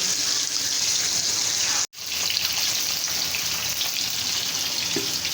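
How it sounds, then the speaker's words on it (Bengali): Tilapia fish fry in oil in a home kitchen, a loud steady close sizzle with crackling, broken by one brief cut before continuing. "এই পাশে মাছগুলো ভাজা হবে।"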